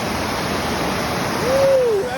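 Rushing water at Bassi Falls, a waterfall with a swimming hole, roars as a steady broadband wash close by, with a brief voice sounding over it.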